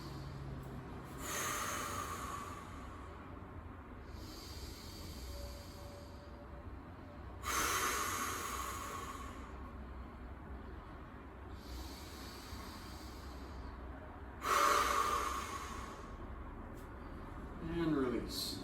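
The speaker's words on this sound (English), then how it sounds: "we'll take 3 deep breaths" Deep, slow breaths taken during a yoga stability exercise, several rising and falling breathy swells at steady intervals, close and moderately loud over a faint background rumble.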